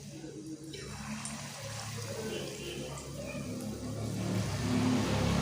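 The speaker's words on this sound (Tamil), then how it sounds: "இப்போ கலந்து வச்ச மாவை நம்ம எண்ணெயில் சேர்த்துருவோம்" Spinach bonda batter dropped into hot oil for keerai bonda, a broad steady frying hiss with a bubbling undertone that swells slightly louder toward the end, with no talk over it.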